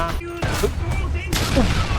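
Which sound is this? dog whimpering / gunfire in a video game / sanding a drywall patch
gunfire in a video game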